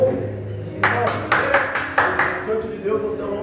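Church congregation applauding during a sermon at Igreja Cristo Viver in Aracruz, a burst of hand claps starting suddenly and continuing in a ragged rhythm of strong individual claps, fairly close, with a voice underneath.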